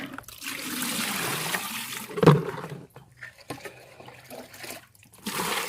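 Water sloshes and trickles as cut caladium plant pieces are rinsed in a basin, a steady splashing wash with one sharp splash midway, then quieter dribbles and a renewed swirl.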